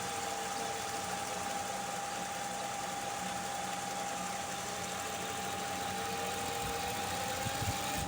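A sewing machine runs steadily around the curved hem of a round skirt, giving an even, continuous mechanical whir with a faint constant tone and no pauses.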